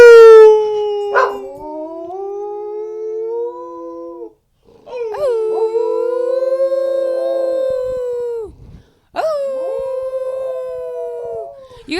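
A dog howls in long, drawn-out wavering notes, three separate sustained howls with short breaks between them, loud and close, with no talk over them.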